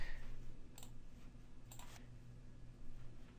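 Computer mouse clicking, two sharp faint clicks about a second apart, then a softer click, alone against quiet room hiss.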